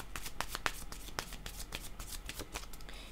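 Tarot cards are shuffled by hand in a quick run of close, crisp riffling flutters and soft slaps lasting a few seconds, with no talking.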